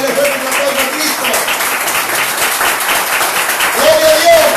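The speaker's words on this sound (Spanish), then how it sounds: "Dale fuerte un aplauso a Cristo." Church congregation clapping in applause during a Spanish-language evangelical service, a steady sustained wash of hands with a preacher's voice carrying over it throughout.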